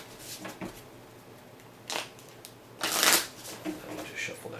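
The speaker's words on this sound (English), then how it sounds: "let me just shuffle that real quick" A deck of cards for the Sentinels of the Multiverse board game gets shuffled at a table, a few short riffling bursts with the loudest near the end, close and crisp against quiet room tone.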